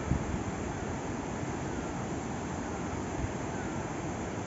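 Cool wind blows steadily outdoors on the way to the Dhundeshwar Mahadev temple, a broad, even rush that stays constant throughout, with a few soft gusty bumps.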